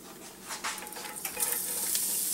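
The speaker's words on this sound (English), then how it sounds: "just add some oil, some cumin seeds, mustard seeds" Cumin and mustard seeds sizzle and crackle in hot oil for a bakery-style puff masala, a close, steady hiss with small pops that grows brighter toward the end.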